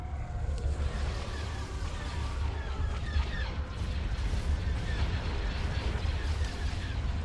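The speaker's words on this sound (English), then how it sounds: "this will be a lot of explosions to start this off with" Space battle in the Star Wars game Thrawn's Revenge, a dense continuous roar of rumbling explosions and weapon fire with crackling bursts throughout, loud and unbroken.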